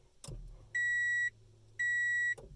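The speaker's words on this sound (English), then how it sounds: "You can hear the fuel pump and everything." A 1995 Honda Civic with a faulty ignition switch: a click, then a steady low fuel-pump hum, broken by two separate beeping chimes, and a closing click.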